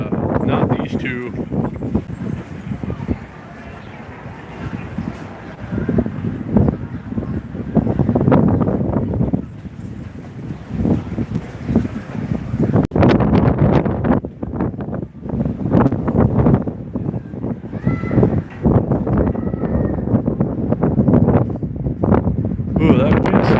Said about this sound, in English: Ooh, that wind's starting to get a little bit colder now.